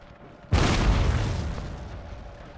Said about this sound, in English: I have never seen artillery engage in a canister duel.